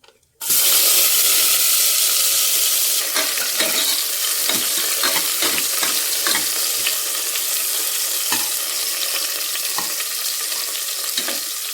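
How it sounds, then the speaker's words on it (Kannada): Onions fry in hot oil for temple-style sambar, a loud sudden sizzle bursting in after a near-silent start and continuing steadily with intermittent stirring scrapes, no voices. "ಎಣ್ಣೆ ಕಾದಿದೆ ಅಲ್ವಾ ಫಸ್ಟ್ ಈರುಳ್ಳಿ ಫ್ರೈ ಮಾಡ್ಕೊಂಡ್ಬಿಡ್ತೀನಿ"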